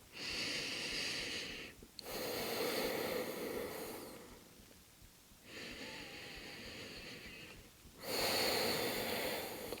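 Slow, deep breaths during a post-run yoga stretch: four long, audible breaths, each a rushing inhale or exhale, separated by short quiet pauses, close and fairly soft.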